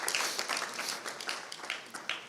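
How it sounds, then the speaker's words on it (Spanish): A live audience claps for the volunteers at a talk, a brief burst of dense, bright applause that fades after a couple of seconds. "Un aplauso a nuestros eternos voluntarios."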